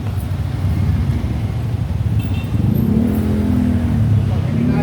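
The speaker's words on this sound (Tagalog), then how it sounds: "Tricycle." A motorized tricycle engine rumbles steadily at close range and grows slightly louder as it passes, with people talking over the noise.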